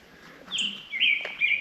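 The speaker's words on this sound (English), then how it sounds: "Got some birds making some weird noises." Birds calling near a quiet Oregon Cascades campsite in the morning: a few short, odd chirps and whistled tweets, close and clear, in a few bursts over still air.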